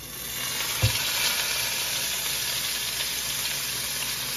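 Grease frying in a pan makes a steady bright sizzle, close and continuous, with one short knock near the start, then an even hiss to the end.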